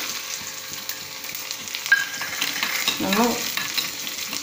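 Mustard seeds and urad dal fry in oil with garlic, crackling in a close, steady sizzle while a voice briefly says a word partway through.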